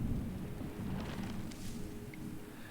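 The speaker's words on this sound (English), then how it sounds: "It is pretty, very pretty rain, and it's great thunder noise." Steady rain hiss with a low rolling rumble of thunder underneath fills the scene in the city-restoring game Terra Nil, continuous and moderately quiet with no voices.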